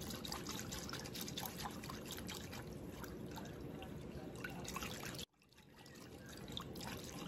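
A homemade hand sanitizer mixture is poured out in a soft, close trickle and dribble of liquid that stops abruptly partway through, followed by quiet room sound.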